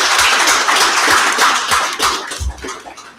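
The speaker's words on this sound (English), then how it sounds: "can we just give our panel a round of applause" A seated audience at a community prevention panel claps for the panelists, a dense, sustained patter of many hands at moderate distance, fading slightly toward the end.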